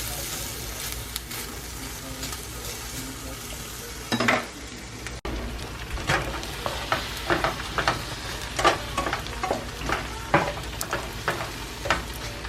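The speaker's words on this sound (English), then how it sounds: "and we're gonna cook up this turkey sausage" Turkey sausage sizzles in a pan, a steady frying hiss broken by repeated scraping and stirring strokes of a utensil, with a clunk of cookware partway through.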